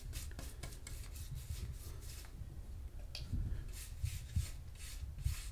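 A brush applies paint to a wooden cot, giving soft repeated scrubbing and swishing strokes at close range with occasional light knocks, steady and fairly quiet, with no talk.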